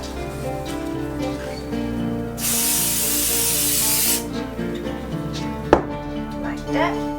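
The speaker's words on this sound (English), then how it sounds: "I'm gonna put a little hairspray on this." Hairspray is sprayed onto a wig in one steady, loud hiss lasting about two seconds, close by, followed by softer handling noises of the hair.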